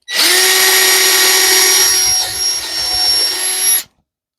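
A power drill whines loudly and steadily as it bores a hole, close by. The pitch dips briefly partway through, then the drill runs on and stops abruptly.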